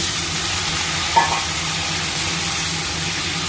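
A little water added to spices frying in a pan for a fish curry with potato and eggplant, giving a steady loud sizzling hiss with a brief sharp tap near the middle, no voices.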